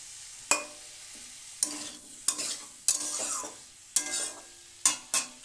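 Bitter gourd and other vegetables are stir-fried in a pan, with repeated scraping strokes of a spatula roughly every second over a soft continuous sizzle, close and clear with no talking.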